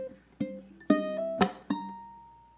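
Ukulele plucks a few single notes of a 12-bar blues measure, quiet and close, each note ringing out and decaying, the last left to fade.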